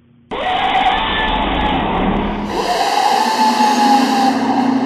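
An air starter on a 1994–96 Orion 05 diesel bus blasts on abruptly with a loud, sustained hissing whoosh that shifts higher partway through, close and steady with no talk.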